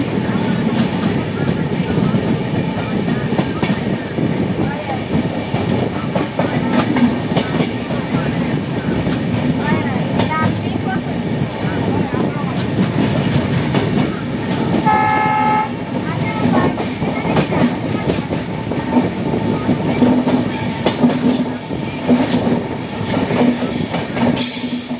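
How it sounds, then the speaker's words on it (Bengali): A passenger train runs through hilly country on the Guwahati to Agartala line, a steady loud rumble of wheels on rails with clattering and brief squeals, sounding alone throughout. "ট্রেন হেলতে দুলতে পাহাড়ি অঞ্চলের মধ্যে দিয়ে ছুটে চলেছে"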